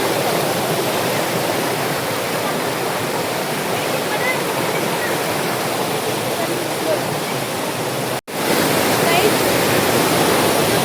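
A waterfall in strong flow roars steadily with heavy, broadband rushing water close by, broken only by a split-second dropout near the end.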